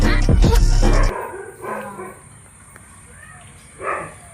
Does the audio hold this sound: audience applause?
no